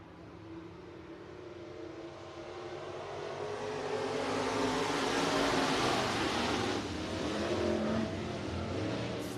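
IMCA Sport Mod race cars at Buena Vista Raceway, a steady loud roar of several engines that builds and swells over the run, with no talk over it.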